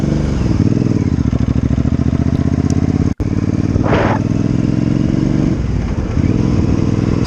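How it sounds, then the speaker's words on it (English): Triumph Speedmaster 865 parallel-twin cruiser motorcycle exhaust, loud and close, a steady throbbing rumble held for several seconds with a brief cut near the middle and slight shifts in pitch, no talking. "I've kept the lovely exhaust notes so you can get a taste of the parallel twin."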